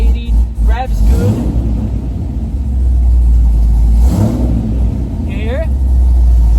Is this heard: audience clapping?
no